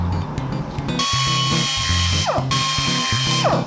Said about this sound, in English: Maybe we should Clean it up. ream that out a little bit.